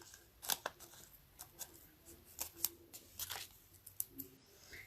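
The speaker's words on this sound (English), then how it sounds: "So if you cut that in half," Paper is cut in half for a Stampin' Up! lily pad card project, with a series of sharp, close snips and crisp rustles spaced irregularly across a quiet room.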